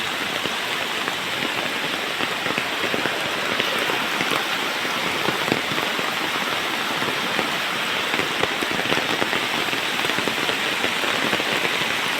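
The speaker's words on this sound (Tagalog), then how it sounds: "maulan na naman uli." Heavy rain falls steadily outdoors, a dense, even hiss of drops on surfaces that continues unbroken throughout, loud and close with no voices.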